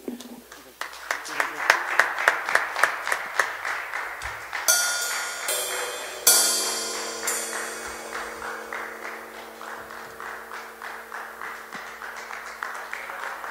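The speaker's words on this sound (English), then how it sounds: "Clapping for Jesus." Congregation clapping in rhythm at a church communion service, steady hand claps repeating for several seconds, joined partway by ringing tones and a voice, then continuing more softly and unevenly.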